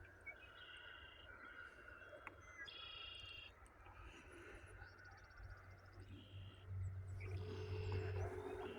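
Faint birdsong at sunrise: scattered chirps and short trilled phrases over a steady low hum of passing traffic, distant and soft, growing a little fuller near the end.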